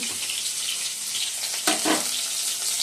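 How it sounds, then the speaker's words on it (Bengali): Chicken pieces frying in hot oil for chilli chicken, a steady close sizzle with a couple of brief louder bursts near the end, no voices. "চিলি চিকেন নিয়ে চিকেনগুলো ভেজে নিচ্ছি"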